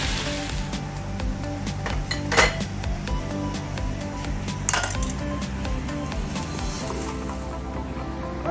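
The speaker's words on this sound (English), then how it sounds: "Give this a mix." A utensil stirs onions and garlic in a pan for spaghetti bolognese, scraping and clinking against the metal over a low sizzle, close and steady, with a couple of louder knocks.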